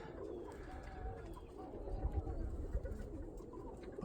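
Roller pigeons coo softly inside a loft, low throaty murmurs overlapping in a muffled, fairly quiet room with faint rustling.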